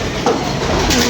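A pigeon coos close by, one short low throaty call over a steady noisy background with some faint movement.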